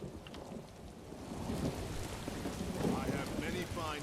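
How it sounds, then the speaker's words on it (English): Steady heavy rain with rolling thunder in a stormy Elder Scrolls Online camp, a dense continuous downpour that builds slightly midway, with faint tonal sounds near the end. "I could do without this damnable rain. It's been storming since we arrived"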